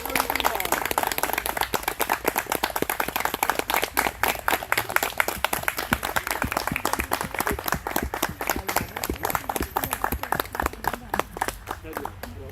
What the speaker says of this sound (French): Alors, on applaudit d'abord. On applaudit tout le monde.